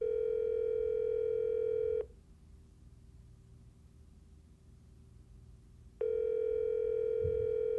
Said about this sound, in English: do you mind if I phone in Linus for the rest of this call?